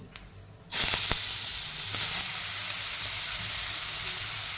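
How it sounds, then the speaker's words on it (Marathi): Loud, steady sizzling hiss as grated bottle gourd drops into hot oil with cumin and mustard seeds, with a sharp burst at the start and continuous frying crackle throughout; no talking. "जिरा आणि मोहरी छान फ्राय झाले की त्यामध्ये टाकूयात किसलेला दुधी"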